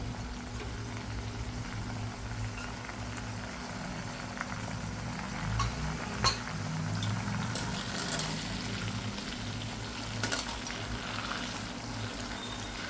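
Banana chips frying in hot oil after turmeric salt water is added, a steady bubbling, boiling sizzle close by with a low hum beneath and a few sharper crackles, no talk.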